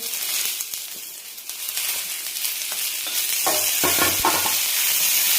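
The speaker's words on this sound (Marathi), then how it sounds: "आणि लसणाच्या पाकळ्या। याला पण आपल्याला परतून घ्यायचं" Garlic cloves sizzle as they sauté in a hot pan for a Marathwada-style curry, a steady frying hiss broken midway by a few close scrapes and clinks of stirring.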